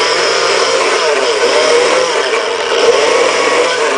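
A steady, loud motor whir runs without pause, a dense mechanical drone with slight rattling texture, close by and unbroken by talk.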